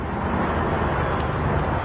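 A parrot imitates a car engine starting, producing a continuous rough, broadband mechanical roar that holds steady for a couple of seconds, with no words spoken.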